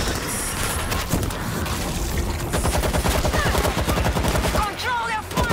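Rapid gunfire in the video game World War Z, dense sustained automatic bursts with sharp repeated cracks over a noisy battle background, building toward the end, with a shouted voice briefly over it.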